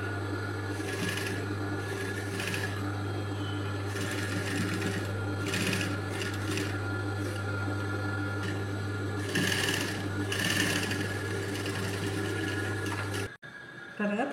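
Sewing machine stitching invisible thread piping on a neckline runs steadily and close for most of the stretch, with a constant motor hum and quick needle chatter, stopping abruptly near the end.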